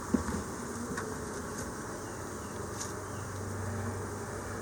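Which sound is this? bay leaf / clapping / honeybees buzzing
honeybees buzzing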